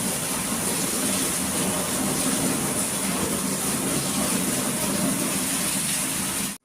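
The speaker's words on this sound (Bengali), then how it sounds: "হেভি বৃষ্টি হইতেছে।" Heavy rain pours down outdoors in a continuous, loud, even wash of noise with no pauses, then stops abruptly at the very end.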